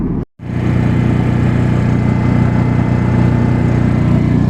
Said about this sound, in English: The welder's running.